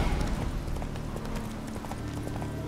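Horse hooves clip-clop at a steady, continuous pace in The Witcher 3, with dense game ambience and music layered over the footfalls throughout.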